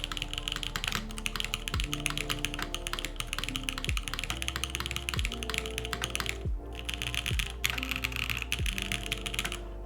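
Continuous typing on a Duck Jetfire mechanical keyboard, a close, rapid clatter of key presses with a steady rhythm and brief pauses.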